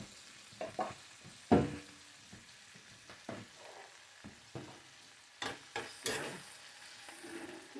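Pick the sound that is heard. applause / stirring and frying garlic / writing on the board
stirring and frying garlic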